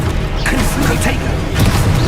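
Confringo fire-blast spell going off in Hogwarts Legacy, a dense, loud, continuous rumbling burst with crackling bright edges filling the whole moment, heavy low-end boom throughout.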